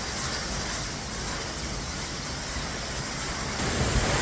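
Perrine Coulee waterfall in Idaho pours as a steady, broad roar of falling water, loud and constant throughout, swelling slightly toward the end.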